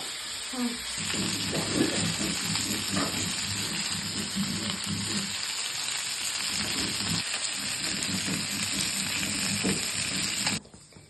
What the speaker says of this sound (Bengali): এই যে এখন এই যে পেঁয়াজ ভাজছি